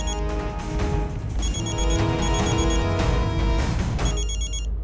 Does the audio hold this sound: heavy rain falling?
no